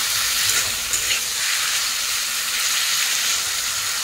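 A spice masala with turmeric and chilli powder sizzles in a hot pan while being sautéed, a steady, loud, hissing fry with faint stirring scrapes and no talk.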